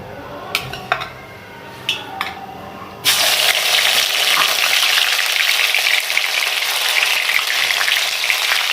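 A few sharp clinks of a spoon on a pan, then a sudden loud, steady sizzle as ginger garlic paste hits hot ghee and keeps frying.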